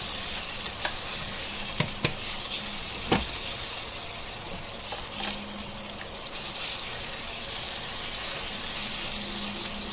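Spice masala for a fish biryani sizzles steadily in a pan, a close, continuous fry with a few sharp scraping clicks of stirring scattered through it.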